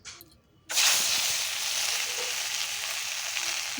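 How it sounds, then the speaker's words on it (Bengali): A ground paste of onion, ginger, garlic and chili goes into hot oil for a snail curry. After a brief near-quiet moment, a loud sudden sizzle bursts up and settles into a steady, close crackling hiss. "তেলটা আমার গরম হয়ে গেছে এবার বেটে রাখা পেঁয়াজ আদা রসুন লঙ্কাটা আমি এই তেলের উপরে দিয়ে দেবো"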